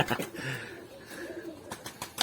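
Pigeons cooing inside a coop in Antalya, soft rolling coos repeating close by, with a few sharp knocks and flutters around them and no talk over them.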